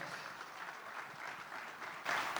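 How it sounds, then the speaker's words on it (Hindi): An audience at an awards ceremony applauds in a sustained, soft patter of many hands, swelling louder in the final half second. "एक बार मैं सबसे रिक्वेस्ट करूंगा खड़े होके तालियां बजाएं श्री मंगल प्रभात लोढ़ा जी के लिए"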